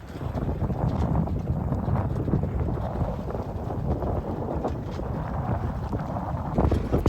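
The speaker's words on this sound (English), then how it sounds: "The wind's been building a little bit all day" Steady wind rushes across the microphone aboard a Com-Pac 23 small sailboat under way, a continuous broadband roar with water noise beneath, loud and unbroken for the whole stretch with no talking.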